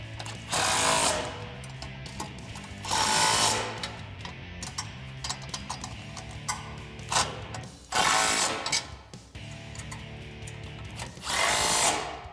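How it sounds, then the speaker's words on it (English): Bolts on a front bumper bracket of a 2013-2018 RAM 1500 being driven and tightened with a 16mm deep socket, loud bursts of whirring tool noise separated by quieter metallic clicking and handling sounds, no talking. "grab a 16mm deep socket and a 16 wrench and tighten these guys down"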